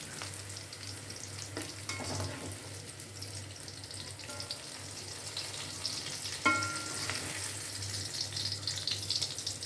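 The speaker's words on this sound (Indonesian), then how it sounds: "Dan digoreng hingga semua bahan layu" Chili and seasoning ingredients frying in a pan, a faint, steady sizzle over a low hum, with occasional light clinks of a utensil and no talking.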